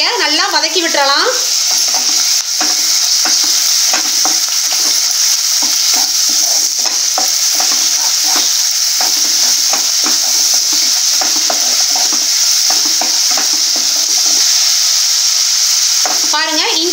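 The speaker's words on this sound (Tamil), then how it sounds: "இஞ்சி பூண்டு பச்சை வாசனை போகிற வரைக்கும் நல்லா வதக்கி விட்டுறலாம்." Ginger garlic paste and curry leaves sizzle loudly in a hot pan, with a steady frying hiss throughout and repeated scraping stirs of a spatula against the pan, plus brief bubbling spits at the start and end.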